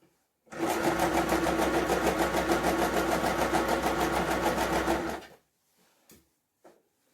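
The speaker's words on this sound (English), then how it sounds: "start sewing. Don't forget to always tighten your stitch before you start." A sewing machine runs in one continuous burst of about five seconds while stitching a blouse sleeve, with a steady fast rhythmic whirr, close and loud, then stops, followed by a couple of faint clicks.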